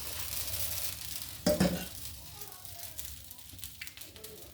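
A green gram dosa (pesarattu) sizzling softly on a hot pan, a faint steady frying hiss with a sharper clatter early on and a voice speaking quietly in the background.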